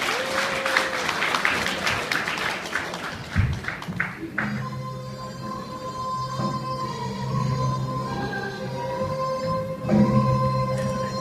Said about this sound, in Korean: 하객 여러분께서 큰 박수로 어, 힘을 보태주시기 바랍니다